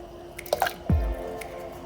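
Water chestnut being slowly lowered into a large pot of boiling chicken pho broth, about 15 liters, giving a few soft drips and plops followed by a heavier splash-like gurgle, close up and without talk.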